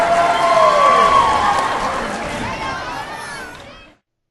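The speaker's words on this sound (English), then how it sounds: "how about a crowd cheering for you every time you get a text message?" A crowd cheering sound effect, used as a text message ringtone, rises as dense whooping and shouting with children's voices, loud and close, then fades and cuts off abruptly after about four seconds.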